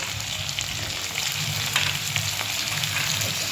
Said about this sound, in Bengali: আলুগুলো কিছুক্ষণ ভাজা হয়ে গেছে এবার আমি এর মধ্যে কেটে রাখা সবজি ডাঁটাগুলো দিয়ে দিচ্ছি